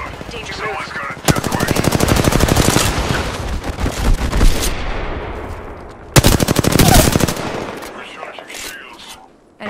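Sustained bursts of rapid automatic gunfire from the Apex Legends shooter game, loud and close, firing in two long volleys separated by a brief lull, with voices calling out over the action.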